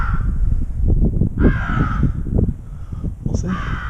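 Crow caws from an electronic crow caller set in thick pine woods, a run of loud, harsh repeated calls with a rough, raspy texture, close and continuous with no voices.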